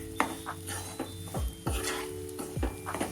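Edible gum powder being roasted and stirred into a sukhdi mixture in a metal pan, with a spoon scraping and clinking against the pan in repeated strokes, close and moderately loud, no talking.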